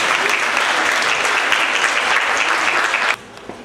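An audience at an outdoor spring festival's artistic show applauds steadily and loudly after a performance, a dense sustained clapping that cuts off abruptly near the end.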